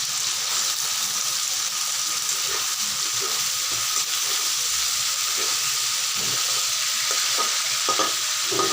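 Chicken pieces fry in a hot pan with a loud, steady sizzle and hiss, with faint stirring clatter and a single brief spoken word.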